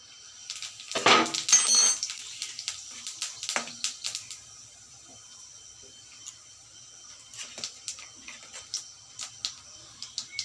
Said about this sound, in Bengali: আমি এখন জিরা ফোড়ন দিচ্ছি